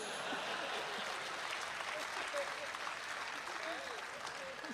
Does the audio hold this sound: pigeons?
no